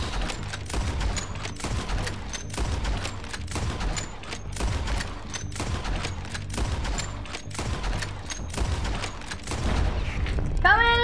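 Dense video-game gunfire from Red Dead Redemption 2 during a gang shootout, rapid overlapping shots and booms layered over a constant rumbling score, loud and continuous throughout.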